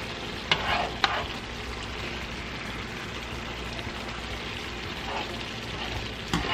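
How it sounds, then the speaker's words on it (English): Orange beef sauce, thickened with cornstarch slurry, sizzles steadily in a hot pan, with a few sharp clicks of a utensil as it is stirred, close and continuous. "now I am going to thicken the sauce by adding some cornstarch slur."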